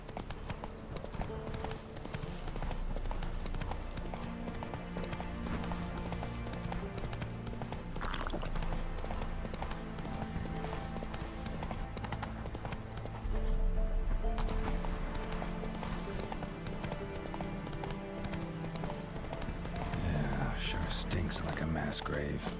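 In The Witcher 3: Wild Hunt, a horse gallops with rapid clip-clopping hooves under a dense game soundscape of music and ambience, with muffled voices and a brief neigh.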